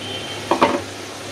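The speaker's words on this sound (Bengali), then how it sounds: "আর সুন্দর করে মশলাটা কষাকষি করি" A spice paste of turmeric, chili-cumin paste and ginger-garlic paste, with salt, a splash of water and bay leaf, is stirred in a frying pan: one quick scraping clatter over a faint, steady sizzle.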